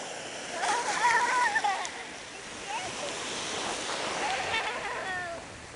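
A person swims in clear water, making soft splashes and sloshing. A voice talks over the water sounds.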